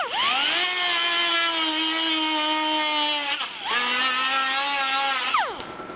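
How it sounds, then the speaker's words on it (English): Grinding tool whines steadily at high pitch against a welded seam on an aluminum Jaguar E-Type bonnet, loud and close, dipping briefly around three and a half seconds before resuming and spinning down at the end. "we'll grind that right here now"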